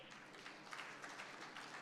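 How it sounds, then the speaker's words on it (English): An audience at a national food fortification summit claps for a winning company, a short, even patter of many hands heard from a distance, faint and without talk. "A round of applause for Bidco."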